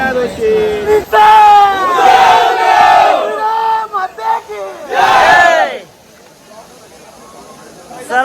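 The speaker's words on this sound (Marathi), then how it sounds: "बघताय भरपूर गर्दी आहे सध्या" Large crowd gathered at a temple rally waiting for a band, with loud shouting and cheering voices rising in bursts, one strong surge then a quieter stretch of murmuring.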